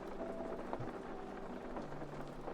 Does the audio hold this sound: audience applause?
no